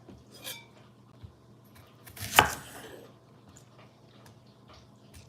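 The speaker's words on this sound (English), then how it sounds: "So I'm just preemptively cutting up an onion here." A knife chops an onion on a board at home, with scattered light taps and one louder clatter, faint and close amid quiet kitchen noise.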